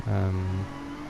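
A race car engine held high near the red line in a racing video game, a steady droning tone that drops away about halfway through, leaving a quieter hum.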